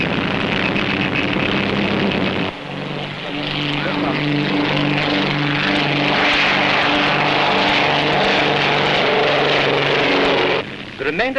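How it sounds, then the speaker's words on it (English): De Havilland Comet racing planes and other propeller aircraft take off at the start of a historic air race: a loud, steady propeller engine drone with a strong hum that swells and then cuts off sharply, under a narrator's voice. "The remainder take off at 45 second intervals"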